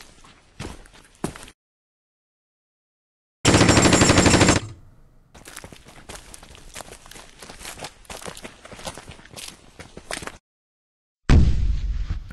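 Mortar fire and explosions from the tabletop-style war game Conflict of Heroes: several loud, abrupt bursts of blasts and rattling fire, separated by silent gaps, with crackling battle noise in between.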